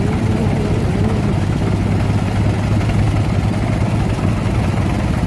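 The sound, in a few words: Case DC tractor engine running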